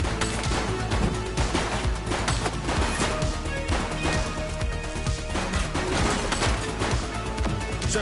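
Gunfire in the police video game The Precinct rattles in rapid, repeated bursts for several seconds, loud and close, mixed with crashing impacts and no talk.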